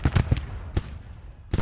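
Artillery fire in the Civil War strategy game Grand Tactician: a quick run of booming shots, then isolated blasts, each one loud and dull and fading into a rumbling tail.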